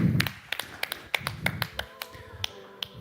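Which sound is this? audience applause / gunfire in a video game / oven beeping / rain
audience applause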